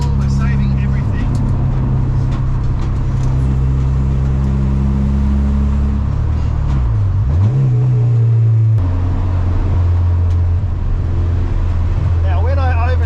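A Honda CL9 TSX racecar drones loudly and steadily through an endurance race while being driven gently to save fuel, its engine note dipping and rising through a gear change midway.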